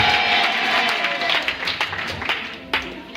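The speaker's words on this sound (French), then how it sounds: "Donne une acclamation forte." Church congregation clapping and shouting acclamation during a worship service, loud dense applause at first that thins into scattered claps and voices.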